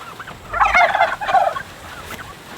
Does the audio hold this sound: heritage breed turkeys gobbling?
yes